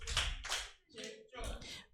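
Children at a Sunday school class clap together in a short rhythmic attention-focusing pattern, two loud bursts then two more, close and clear with some voices mixed in.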